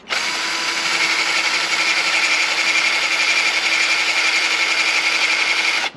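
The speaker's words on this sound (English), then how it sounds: "We'll drill a small hole." A power drill bores a small hole through a metal plate while fitting underglow lights to a kids' ride-on car, giving a steady, loud high-pitched whine that runs unbroken for about six seconds.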